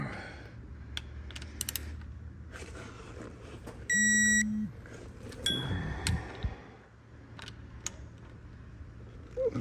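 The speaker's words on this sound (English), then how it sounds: "So this thing will beep and vibrate when it's ready." A digital torque wrench tightening parts on a Detroit 671 engine gives a short, steady electronic beep in the middle, amid faint clicks and shop noise in a quiet workspace.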